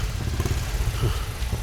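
A motorcycle engine runs steadily close by, a low idling rumble with slight revving as the bike pulls up, heard on its own with no talk.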